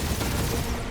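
Dense gunfire barrage from the Guardians of the Galaxy video game, a steady unbroken wall of overlapping shots filling the whole second with no gaps.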